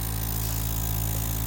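Motorcycle engine running rough and sputtering close up, a steady, dense mechanical drone that struggles along with uneven pulsing as if about to stall.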